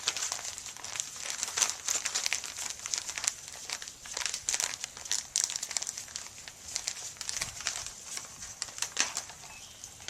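A Ziploc bag of glass balloon epoxy crinkles and rustles as it is kneaded and mixed by hand, a continuous close crackling with irregular sharper crinkles.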